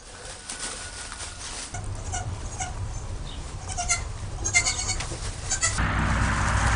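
Newborn goat kids from a litter of three, one female and two males, bleat in short repeated calls over a steady background rumble, fairly close, with no talk.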